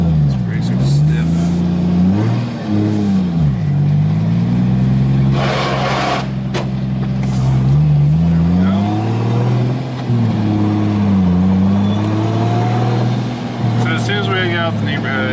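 A 2JZ-engined Nissan S13 pulls hard at full throttle on a neighborhood street, the engine droning loud and close as it climbs and drops through several gears, with the exhaust note rising and falling.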